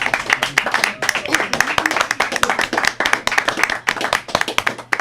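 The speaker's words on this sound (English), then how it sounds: "give yourselves a round of applause" Studio audience applauding at a singing-themed show, dense overlapping claps that hold steady at moderate loudness throughout, with some voices mixed in.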